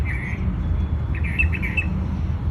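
A small bird on a terrace sings short bright chirps, one brief phrase and then a quicker series of repeated notes, faint and a little distant over a steady low outdoor hum.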